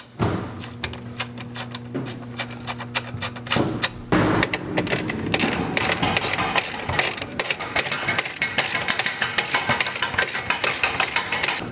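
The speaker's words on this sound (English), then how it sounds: "I'm gonna thread that now" A locking nut threaded onto the rear wheel carrier of a BMW E39, first a brief mechanical hum, then a rapid, steady run of metallic ratchet clicks continuing close-up for several seconds.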